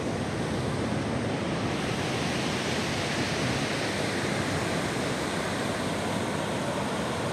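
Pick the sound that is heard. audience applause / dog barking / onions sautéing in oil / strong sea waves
strong sea waves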